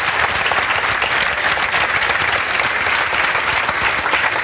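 Steady, dense applause from an audience at a coaching institute's selection celebration, honoring a student's father, loud and continuous without a break and with no talk over it.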